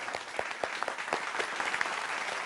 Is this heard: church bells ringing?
no